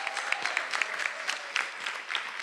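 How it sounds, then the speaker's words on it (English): An audience at a Sankofa celebration applauds honorees, a dense, even wash of many hands clapping that holds steady throughout, moderately loud with no voices on top. "Give them all a round of applause."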